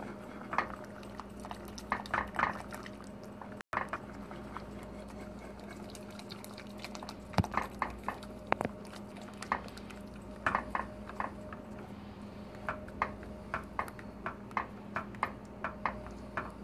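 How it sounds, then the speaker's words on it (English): Metal whisk clinking against a pot while stirring cheese soup ingredients with ground mustard, a steady run of light scraping taps and small clatters recurring through, close and fairly quiet, with no talking. "I'm just going to whisk all that in."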